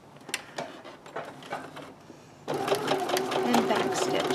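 A sewing machine stitches fabric for a scrunchie, starting with short bursts and then running steadily and loudly in the second half, close by, with a person talking over the first part.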